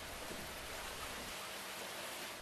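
Steady rain falls on a wet winter afternoon, a dense, even hiss of drops on surfaces that carries on without a break or any voices.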